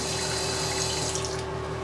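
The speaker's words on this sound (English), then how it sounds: "You grab a little bit of water." Water sprayed or wiped onto a RocketBook Cloud Card reusable notebook page, a steady hissing wash of water running continuously at close range with no talk.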